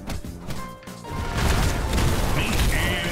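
Bakugo's Ground Cannon Downslam in Heroes Battlegrounds: a short thump, then a loud, sustained explosive roar with crackling debris and a rising whine near the end.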